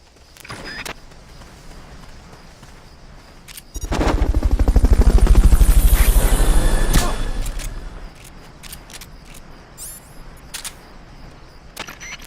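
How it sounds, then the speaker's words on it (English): Fulton recovery helicopter in Metal Gear Solid: Peace Walker swelling in as a loud, dense rotor roar that peaks midway through and fades back to quieter game ambience, with scattered clicks and effects around it. "Fulton recovery helicopter is complete."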